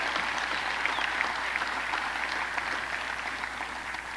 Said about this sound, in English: for the Middletons, for the Phillies, big round of applause